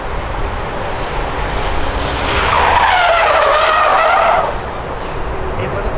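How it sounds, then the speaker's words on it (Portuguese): Tires of a tuned Jetta TSI Stage 3 skid and squeal in a long, rising screech while drifting over a steady engine roar, loud and close, fading back to engine noise. "Mas que barulho gostoso que ficou nesse pneu, velho."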